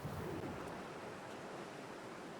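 Steady broadband rush of wind in a video game near a boat, constant and moderately loud throughout with no talk over it.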